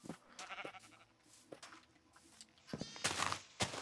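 Sheep bleating in a Minecraft world, several short, quiet bleats scattered with other faint game sounds, and brief bursts of noise near the end.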